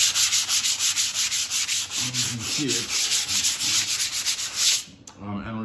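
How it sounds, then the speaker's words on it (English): Sanding paper rubbed steadily over a filled plaster wall before lining paper goes on, a loud continuous scratchy hiss with rhythmic strokes, and a voice briefly speaking near the end. "now we're going through and we're sanding it"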